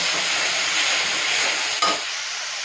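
Ritha fish eggs frying in oil in a wok, a dense continuous sizzle close to the pan, fairly loud and steady, with a brief stir or clink near the end.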